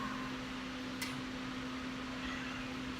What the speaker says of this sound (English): And my air conditioning's on again, so it's loud, super loud.